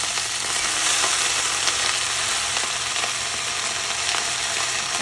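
Mint leaves sautéing in a little oil in a pan give a steady, moderately loud sizzle that holds evenly throughout, with no talking.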